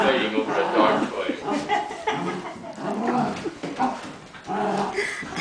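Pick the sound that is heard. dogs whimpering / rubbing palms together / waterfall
dogs whimpering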